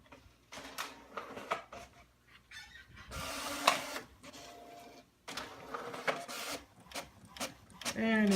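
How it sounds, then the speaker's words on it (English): A cheap, slow 3D printer builds a part for a Draken III build, its stepper motors whirring and chirping in shifting tones through short bursts and pauses, close and moderately loud. "And it's printing."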